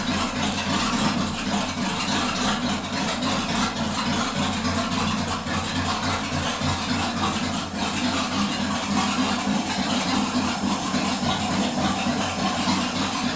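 Steady, loud drone of a 351 Windsor V8 running in a 2002 Ford Ranger, heard from a short distance with a low, even rumble that holds throughout and no voices.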